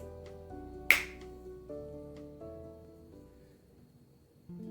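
One sharp, close finger snap rings out over soft background music, with a quick bright attack that dies away fast and is not repeated.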